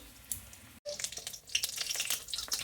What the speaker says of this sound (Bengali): এভাবে উল্টো পাল্টে ভালো করে ভাজতে হবে